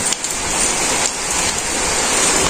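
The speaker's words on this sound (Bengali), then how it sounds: "এখানে যে বৃষ্টি শুরু হয়েছে" Steady, heavy rain pours down in a loud continuous hiss, with drops pattering on nearby surfaces.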